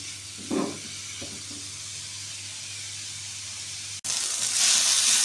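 Marinated chicken sizzling in a pan, a steady hiss with a brief clatter early on, then a sudden cut and a louder, brighter burst of sizzling, no voices.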